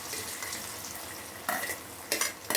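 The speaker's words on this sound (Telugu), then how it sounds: "డ్రై ఫ్రూట్స్ నెయ్యిలో వేయించుకోవాలి." Dry fruits frying in ghee for sheer kurma, a soft, steady sizzle close by, broken by a few sharp scrapes and clinks of a spoon stirring against the pan.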